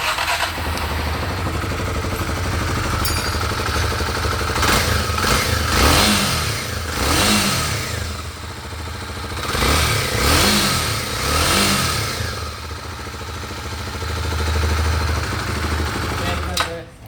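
A Kawasaki KLX 250 motorcycle engine starts and idles close by, then is revved repeatedly in loud surging bursts that rise and fall over about seventeen seconds, with people speaking between the revs.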